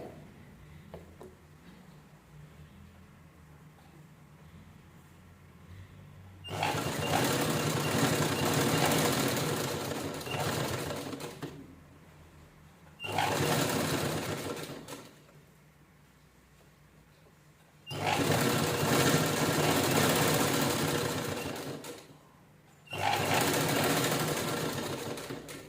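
Sewing machine stitching a purse made from two zippers, running in four long steady bursts of loud motor whir separated by quiet pauses, close up with no talk.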